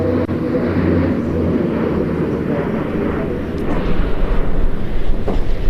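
An Airbus A400M military transport aircraft flies past at an air show, its loud, broad engine and propeller roar steady and swelling slightly toward the end, with faint voices underneath.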